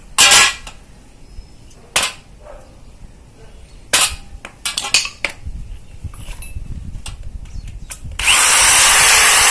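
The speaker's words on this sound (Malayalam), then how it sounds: "ഇതുമാതിരി ആദ്യം ഡ്രില്ല് ചെയ്യണം" Sharp clicks and knocks of handling, then a loud sustained whir of a power drill boring holes while making a magic umbrella, close and running to the end.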